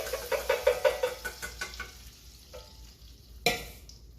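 Eggs hit a hot pan and fry with a run of sharp crackling bursts that fade to a quiet sizzle, ending in one loud clack, no talking; breakfast crepes with bacon are being made nearby.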